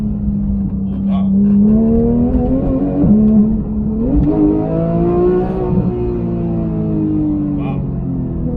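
A Porsche GT3 with a PDK gearbox takes a corner, its engine note rising and falling in a smooth whirring pitch sweep from inside the cabin, partly under the driver's talking.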